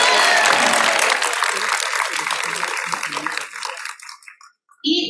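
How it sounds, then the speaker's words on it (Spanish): An audience applauds a doctor after a lecture on obesity, with loud, dense clapping that gradually fades to scattered claps and silence before a voice briefly resumes. "por favor le damos otra vez un fuerte aplauso al doctor"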